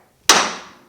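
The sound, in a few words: hammer hitting steering knuckle to release tapered joint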